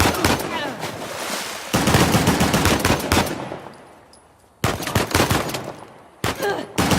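Bursts of automatic gunfire in an ambush in the video game Uncharted: The Lost Legacy, loud rapid volleys broken by a brief lull, with shouting voices mixed in.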